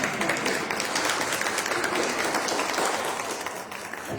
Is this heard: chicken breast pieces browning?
no